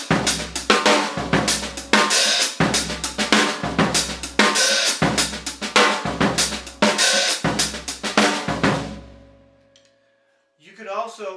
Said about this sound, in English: You could play an open hi-hat with the stick, and then of course you have to step it closed.